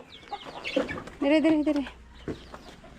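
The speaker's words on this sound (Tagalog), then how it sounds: "Ang dami manok." Chickens clucking close by in a rural yard in Apayao, a few short bursts of fowl calls, partly overlapped by a man's brief speech.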